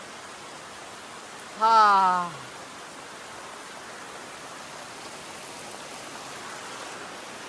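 Heavy monsoon rain falls on a Konkan village as a steady, dense hiss throughout. A short voiced exclamation cuts in briefly near the start.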